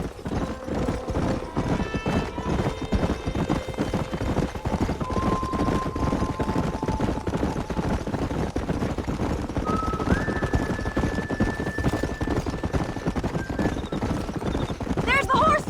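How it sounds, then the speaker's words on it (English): Horses galloping and neighing in the Red Dead Redemption video game, a continuous rumble of hoofbeats with whinnies rising over it, fairly loud and close, beneath steady music and no clear talk. "There's the horses!"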